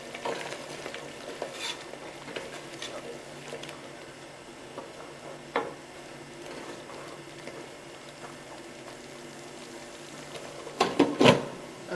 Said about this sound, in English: And just give this a stir.